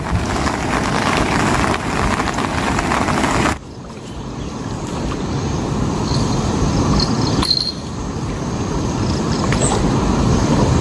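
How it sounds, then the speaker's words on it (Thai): Steady rain pours down during an outdoor fishing trip, a dense continuous hiss that drops slightly in level twice, with faint insect chirps and no talking. "ฝนก็ยังไม่หยุดเลยตกมาเกือบชั่วโมงแล้ว"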